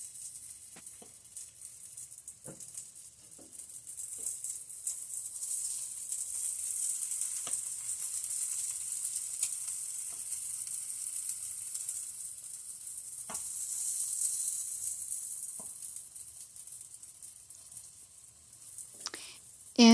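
Sausage fries in a pan with a steady, bright sizzle that swells and eases over time, broken by a few faint clicks and a small clatter near the end, with no talking.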